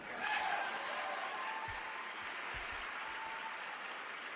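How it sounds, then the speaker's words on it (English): Audience applause at a Hall of Fame style event, a steady wash of clapping held at moderate distance throughout, with a few low thumps underneath. "round of applause to you"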